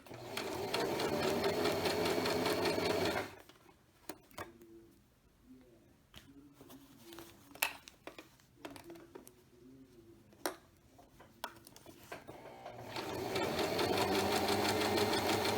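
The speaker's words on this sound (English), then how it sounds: "I'm going to make sure just to reverse stitch here for a little bit" A sewing machine stitches fabric for a reversible tote bag, running loud and steady at the start and end with a quieter stretch of short, scattered mechanical clicks and stops in between.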